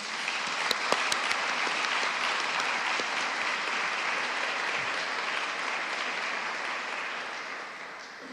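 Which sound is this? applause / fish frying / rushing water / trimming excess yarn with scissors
applause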